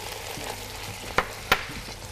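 Tomatoes fry in oil with a dense, even sizzle, broken by two sharp spoon knocks against the pan, close up.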